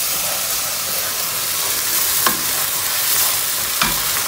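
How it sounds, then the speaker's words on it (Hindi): Masala for a Punjabi chicken gravy fries in a pan with a loud, steady, close sizzle, broken by a couple of brief stirring scrapes. "दो तीन मिनट हो गए हैं मसाले को भूनते हुए"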